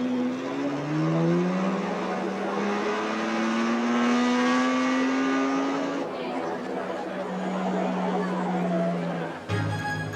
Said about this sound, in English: Ladies and gentlemen, boys and girls, start your engines.